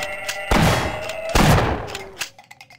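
Two heavy gunshots from the Half-Life video game, each a sharp loud blast with a ringing tail, about a second apart, followed by fainter clatter.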